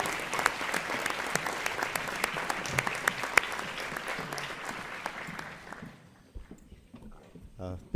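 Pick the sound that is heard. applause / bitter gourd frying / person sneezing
applause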